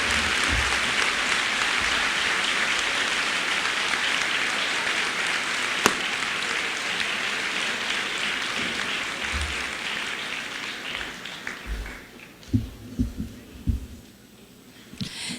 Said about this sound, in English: A big round of applause for all of our scholarship winners.